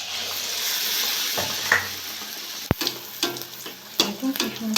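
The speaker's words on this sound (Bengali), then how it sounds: "দেখুন নিলাম, নিয়ে এরকম করে বাকিগুলো আমি একইভাবে ভেজে নেব।" Battered eggplant slices, beguni, fry in hot oil with a steady bubbling sizzle, then a sharp metal knock and several bursts of spatter as pieces are moved or turned.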